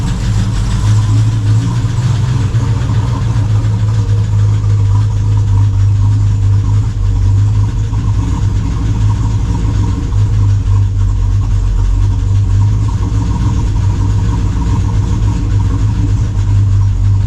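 A Range Rover Classic engine idles loud and close with a steady low rumble and an even mechanical chatter, running continuously with no pauses or voices.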